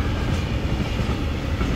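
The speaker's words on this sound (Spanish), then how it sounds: "Trenes de este lado." A train rolls along railway tracks beside a road and lake, a steady close rumble with low clickety-clack filling the whole stretch without pause.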